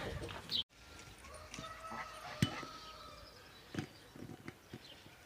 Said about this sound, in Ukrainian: індика зараз будемо переганяти, тому що втікає, втікає